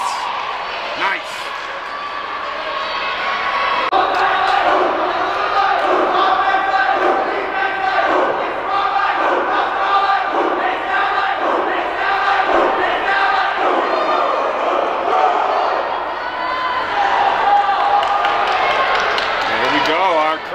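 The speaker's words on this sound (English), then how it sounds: "Our crowd is really into it tonight" A high school volleyball crowd in the gym cheers and shouts for about twenty seconds, with loud rhythmic chanting and clapping swelling through the middle under an announcer's voice.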